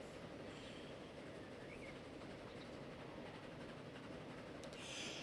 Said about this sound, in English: deploying a train from a distant depot is that you get a long ride without stops at stations